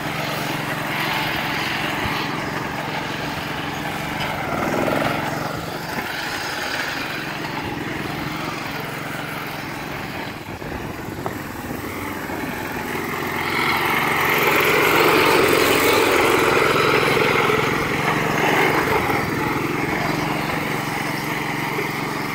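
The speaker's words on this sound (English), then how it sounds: "The mower is a nice mower." An antique Murray lawn mower engine runs steadily close by, a continuous buzzing drone that swells a little louder toward the end, with no talk over it.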